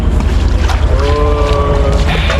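A trawler boat's engine rumbles loud and close at the floating guava market in Bhimruli, Barishal, a continuous throbbing drone with splashing water and wind noise over the microphone.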